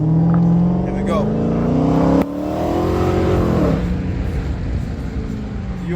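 Dodge Challenger SRT Hellcat, the factory 707-horsepower model, accelerating hard from inside the car, with loud engine pitch climbing through the gears, a sharp shift near the middle, and a voice talking over it.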